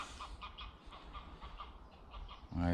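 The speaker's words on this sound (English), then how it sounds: "Some unruly geese again." A flock of geese honks repeatedly outdoors on a countryside walk, a ragged overlapping chorus of calls at middle distance over steady background noise, ending in a louder close-up thump.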